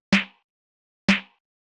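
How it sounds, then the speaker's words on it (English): A lo-fi house snare sample struck twice, roughly a second apart, each hit a snappy crack with a bit of low body and a brief decay, isolated with nothing else sounding. "and then the snare."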